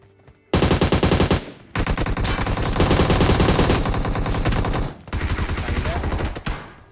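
Loud, sustained automatic gunfire from the mobile battle royale game BGMI, rapid close bursts running for seconds with brief pauses between strings of shots.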